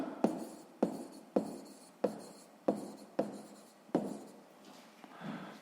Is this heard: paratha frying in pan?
no